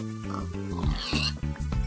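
Game-style pig oinks and grunts from a video game over a steady background music loop, a few short snorts spread across the clip.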